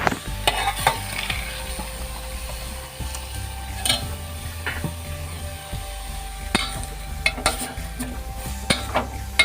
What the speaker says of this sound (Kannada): ಎರಡು ಕಪ್ಪು ಬೀಟ್ರೂಟ್ ಹಾಕ್ಕೊಳ್ತಿದ್ದೇನೆ. ಅದರಲ್ಲಿ ಚೆನ್ನಾಗಿ ಹುರಿಯುವ.